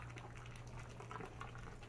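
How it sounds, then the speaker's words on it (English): Boiling water poured through a funnel into PVC pipe, giving a steady gurgling, bubbling pour that runs continuously for a couple of seconds under a low hum. "Pour the boiling water in there"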